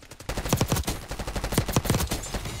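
Pistol hipfire gunshots in the Call of Duty video game, a quick volley of sharp, loud shots fired in uneven bursts, close and clear with no talk over them.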